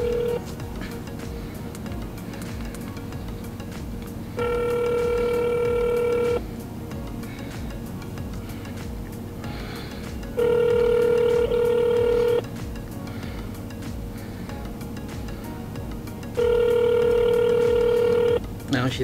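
Ringback tone of an outgoing phone call, three evenly spaced long ring bursts separated by pauses, clear and fairly loud over a steady background hum.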